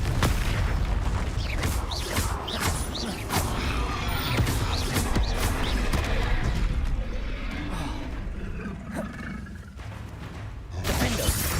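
Repeated Confringo fire spells burst in Hogwarts Legacy combat, with loud booming blasts, whooshes and crackling impacts that follow one another in a dense, chaotic run before a final flare-up.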